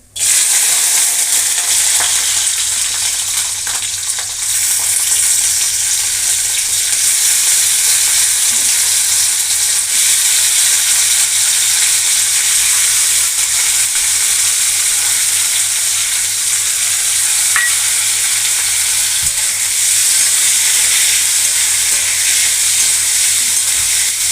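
Sesame seeds, cumin, green chilies and tomato fry in a pan for tomato chutney, producing a loud, continuous close-up sizzle and crackle that holds steady throughout.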